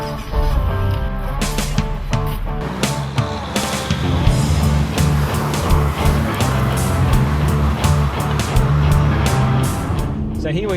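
A Holden Commodore Lowndes edition is driven on the road, its engine droning loudly and steadily with rising and falling revs under a voice talking.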